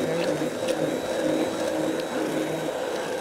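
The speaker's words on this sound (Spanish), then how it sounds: "Esto es moler, moler, moler." Hand blender grinding mazamorra ingredients, a steady close mechanical whir and grinding that runs continuously without pause.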